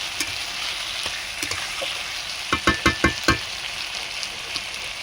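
Chicken sautéing with crushed cardamom in a pan gives a steady close sizzle, with a short run of sharp stirring clatters near the middle and no talk.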